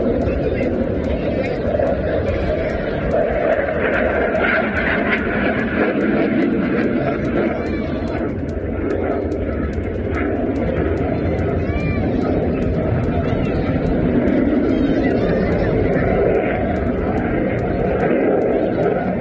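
An Indian LCA Mk-1 Tejas jet fighter roars loudly and steadily overhead throughout at an air show, with a voice talking over the engine noise.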